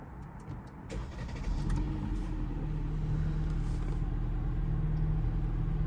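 A 2021 Jeep Compass Trailhawk engine fires up at the push-button start, with a brief cranking burst settling into a steady, fairly loud idle rumble that continues to the end.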